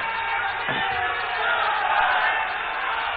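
Crowd at a public dialogue event welcoming Saroj Pandey, a broad continuous roar of applause and cheering voices, steady and fairly loud, heard through a muffled, band-limited recording.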